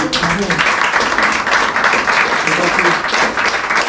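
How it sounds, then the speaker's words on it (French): Audience applause fills a copperware workshop in the Bugey during a talk on the dying craft of metal spinning, a dense steady wash of clapping that runs unbroken and fairly loud throughout. "je vous remercie de votre applaudissement"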